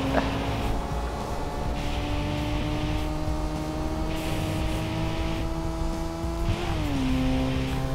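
Racing car engine in the video game Tokyo Xtreme Racer 3 holding a steady loud drone throughout, with pitch climbing and a sharp shift near the end, alone without talk.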